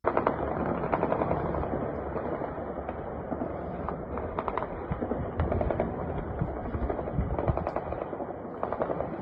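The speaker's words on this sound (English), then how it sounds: "these bullets just don't affect this thing in the slightest" Dense, continuous gunfire in Moscow aimed at a UAP, with rapid bursts of shots crackling throughout, loud and sustained with no pauses.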